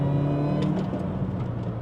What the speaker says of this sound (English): you can roll onto the throttle